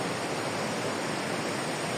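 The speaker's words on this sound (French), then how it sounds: "Les vagues sont ouf." Ocean waves wash onto a beach at rising tide, a steady, dense roar of surf that holds at an even level throughout, with no voices.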